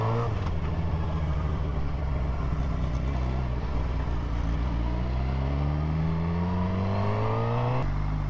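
Engine of a newly acquired motorcycle pulling hard while riding in traffic, a loud steady drone whose pitch climbs smoothly through several seconds of acceleration, dips briefly, then rises again near the end, with no talking.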